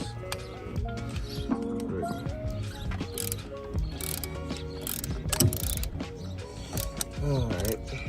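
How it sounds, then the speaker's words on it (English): A line wrench works a stubborn bolt on the thermostat housing of a Honda, giving close metallic clicks, creaks and ratcheting scrapes in a steady irregular stream throughout. "Had to use this dang line wrench because I can't find my ratchet wrench"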